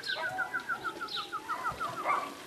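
A racing pigeon arriving at a loft coos in a repeated rhythmic series of soft notes, close by, with a brief wing flutter near the end.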